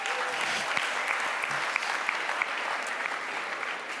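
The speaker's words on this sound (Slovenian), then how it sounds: "A lahko še enkrat ponovimo, pa mi date aplavz, kad pridem spet gor." Steady audience applause fills the room at an even level, with a few sharper individual claps standing out, as a host waits to come back up on stage.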